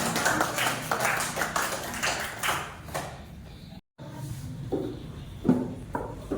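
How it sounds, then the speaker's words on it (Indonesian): A classroom of students applauds, with a dense burst of close clapping for about three seconds before it thins into a few scattered claps and taps. "Kita kasih aplaus untuk"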